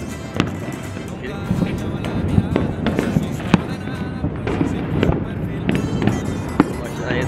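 Fourth of July fireworks and firecrackers pop and crack repeatedly at varying distances, sharp bursts scattered over a constant outdoor rumble while someone talks in Spanish.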